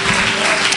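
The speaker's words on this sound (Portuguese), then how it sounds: "Você pode dar um aplauso ao Senhor?" A church congregation gives a loud, dense burst of applause to the Lord at a graduation service, many hands clapping together close and full, with no pause.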